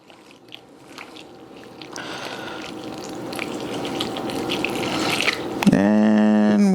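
Hot water is poured slowly into a bowl of flour and salt for tortilla dough, a soft continuous trickle and splash that builds gradually, ending in a brief tonal whine.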